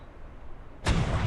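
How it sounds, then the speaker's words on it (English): Cannon test shot in the video game Ark: Scorched Earth, quiet for a moment and then a single sudden heavy boom that lingers as a rumbling tail. "And load cannon, test shot."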